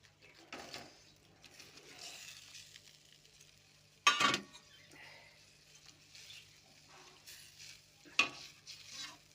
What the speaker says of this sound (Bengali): আমি এবার নাড়াচাড়া করে মাছগুলো আমি দিয়ে দেবো